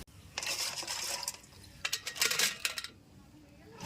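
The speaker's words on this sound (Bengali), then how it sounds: "এবারে ধুয়ে কাঁকড়াগুলিকে ছাড়িয়ে নেব প্রথমে এই পাগুলিকে ধুয়ে উঠিয়ে নিচ্ছি" Sundarbans crab legs being washed by hand in water, heard as two close bursts of splashing and light clattering separated by a brief quiet pause.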